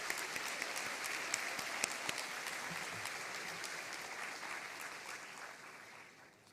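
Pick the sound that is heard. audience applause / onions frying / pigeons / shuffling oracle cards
audience applause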